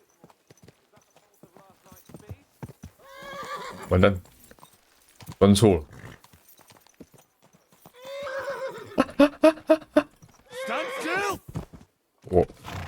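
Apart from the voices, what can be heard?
horse hooves clip-clop in video game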